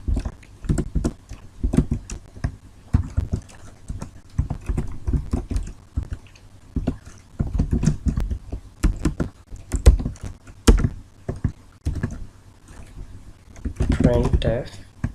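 Keys clatter on a computer keyboard as C code is typed for a programming tutorial, coming in close, uneven bursts of rapid taps separated by short pauses, with a voice talking in between.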